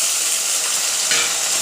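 Ground spice paste hits hot oil with fried onions for a crab dish, hissing and sizzling brightly while being stirred, close up and continuous, with a brief louder burst partway through.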